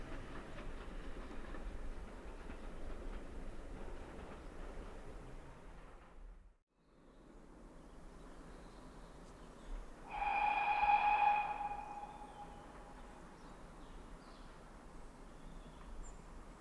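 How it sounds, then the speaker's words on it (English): A distant steam train rumbles steadily along the tracks at a heritage railway gala, and partway through a clear steam whistle sounds for a couple of seconds before the rumble continues. "The whistle you've just heard there signifies the returning train"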